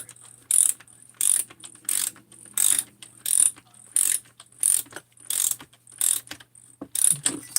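A ratchet clicks in about ten sharp, evenly spaced bursts, close up, while a Husqvarna decompression valve is tightened into a ported, polished 52mm cylinder on a modified 372 chainsaw.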